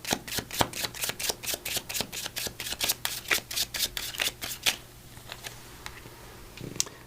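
Oracle cards being shuffled to draw a botanical inspiration card: a rapid run of crisp, evenly spaced riffling snaps up close, stopping after about five seconds and followed by a few scattered soft taps.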